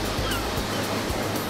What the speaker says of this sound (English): I just like to come out here, listen to the waves.